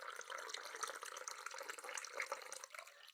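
Hot water being poured into a cup for tea, a soft, steady liquid trickle at close range, faint and alone with no voices.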